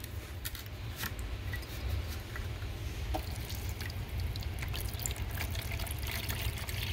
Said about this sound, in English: let's pour some water in here